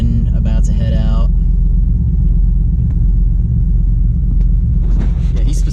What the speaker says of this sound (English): Here's that beautiful Mustang Mach 1 about to head out.